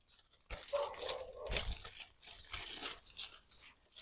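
White anemone foliage being cut back in a winter garden, with crisp snipping, tearing and rustling of stems and leaves in several close bursts.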